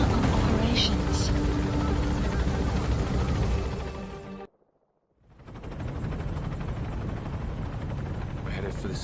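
Helicopter in the video game Metal Gear Solid V lifting off, its loud rotor thump and turbine roar filling the scene, cutting out abruptly for a half-second before the heavy whir returns.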